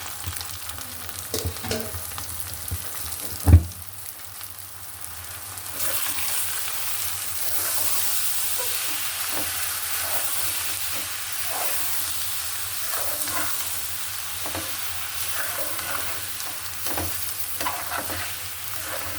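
Washed, drained rice is tipped into a pot for bhuna khichuri and stirred, with a sharp thump as it goes in, followed by a steady sizzling hiss and scraping stirs that continue throughout.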